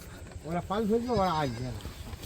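A goat bleats loudly and close, a long wavering cry followed by a second drawn-out bleat, with faint background noise.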